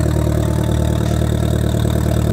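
A VW Golf engine idles while warming up after standing unused. It runs as a steady, loud, close mechanical hum with a regular pulsing beat throughout.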